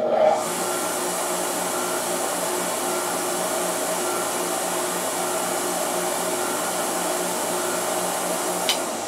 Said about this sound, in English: now we're going to go ahead and test the Vevor to hear how loud it is on the sound tester